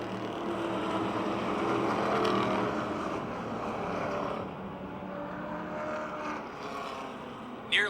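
Race cars battling wheel to wheel on the Motordrome Speedway track, a continuous loud engine roar that swells and eases slightly as the pack runs, steady throughout.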